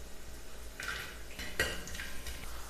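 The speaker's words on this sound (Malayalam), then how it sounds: "കാഷ്യൂ നട്ട്സ് ഒന്ന് ഫ്രൈ ആയി വന്നിട്ടുണ്ട്" Cashew nuts frying in ghee in a pan as they are stirred, with a soft sizzle under a few clinks and scrapes of a spoon against the metal, quiet and close.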